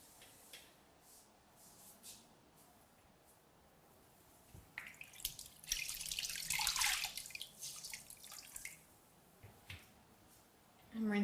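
Water splashes and runs during personal care rinsing at a lavatory, with faint trickles at first and then a louder burst of rinsing in the middle before it settles to quiet drips.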